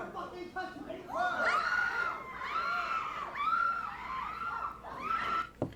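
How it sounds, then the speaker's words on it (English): Shrill, high-pitched screams and shouting burst out in waves during a heated public confrontation, several voices overlapping with crowd chatter throughout, loud and close. "They're screaming like birds or something."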